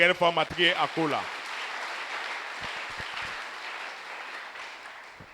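A church congregation at a French Sunday service applauding and acclaiming the Lord, steady crowd clapping and cheering that follows a brief spoken voice at the start.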